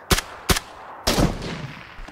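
Gunfire in PUBG Battlegrounds: two sharp single shots about half a second apart, then a heavier blast with a rumbling tail, loud and close with no talk.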